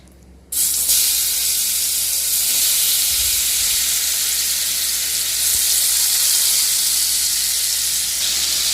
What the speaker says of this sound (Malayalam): ഓയിൽ ചൂടായി കഴിയുമ്പോൾ മാരിനേറ്റ് ചെയ്ത് വെച്ച പ്രോൺസ് ഇട്ട് ഫ്രൈ ചെയ്തെടുക്കാം